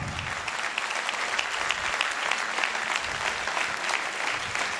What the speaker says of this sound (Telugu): అర్థమైతే చప్పట్లు కొట్టు గట్టిగా